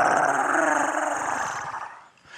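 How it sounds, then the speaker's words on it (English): Low, menacing growls from canine-like creatures closing in from both ends of an alley in a Vampire: The Masquerade live game, a sustained rumbling snarl that stays loud and continuous before briefly fading near the end. "animalistic growls."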